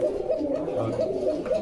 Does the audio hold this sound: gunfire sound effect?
no